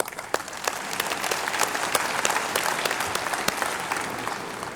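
A graduation ceremony audience claps in sustained, dense applause, many hands together at moderate distance, steady throughout with scattered sharper claps standing out.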